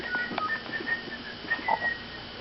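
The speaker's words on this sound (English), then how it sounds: "Hear him? He's whistling." Faint, thin whistling in short wavering bursts, quiet and a little distant over a soft background hiss.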